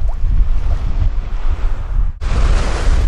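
Wind gusts steadily over the open sea off a New Zealand island, a loud, continuous rush with buffeting on the microphone and a short break near the end.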